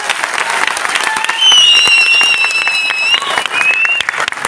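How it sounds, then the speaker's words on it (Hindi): Audience at a motivational business event clapping together, a dense, loud burst of applause that swells around the middle and carries on, with a voice and a whistle-like tone sounding over it. "ताली पे ताली मारो, ठोको ताली।"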